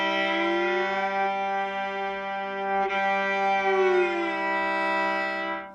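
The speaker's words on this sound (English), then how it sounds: "I'm moving up to G, so it's going to slide into an octave." A bowed violin plays a steady open-string note while a finger slides up to G on the neighbouring string, settling into a sustained octave, close and unaccompanied for about six seconds.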